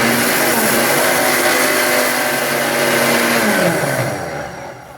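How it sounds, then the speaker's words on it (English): A Bosch Truemixx Bold mixer grinder whirs loudly at full speed, grinding dry spices in its medium jar with a dense, buzzing motor roar that winds down near the end. "10 more seconds of grinding has given me a finer powder."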